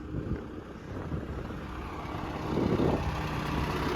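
A Lovol 1054 tractor engine runs steadily at a field during pre-sowing cultivation, a continuous low diesel hum heard at moderate distance with a slight swell in loudness midway, no talking.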